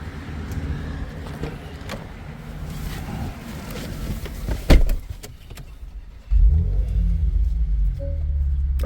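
A Porsche Macan engine cranks and fires up, a sharp catch followed by a sudden deeper idle rumble that settles in close and steady after a few quiet clicks and shuffles inside the car.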